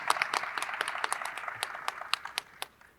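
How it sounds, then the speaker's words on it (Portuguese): A live audience at an education talk applauds a professor, a steady crowd of hand claps with sharp individual claps standing out, moderately distant and fading toward the end. "Vamos aplaudir o professor."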